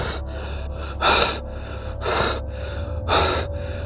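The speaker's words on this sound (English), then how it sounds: "Gasping for breath" A man gasps for breath at a loch in Scotland after a monster sighting, three sharp, loud breathy intakes spaced about a second apart over a steady low background hum.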